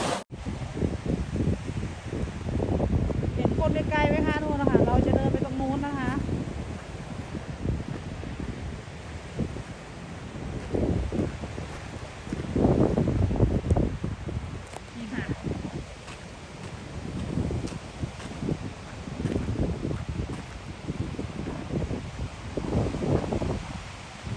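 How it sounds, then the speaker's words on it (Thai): Strong wind sweeps across Point Pelee at the southern tip of Canada, buffeting the microphone in heavy, rumbling gusts that rise and fall throughout while someone talks over it. "นี่ลมแรง"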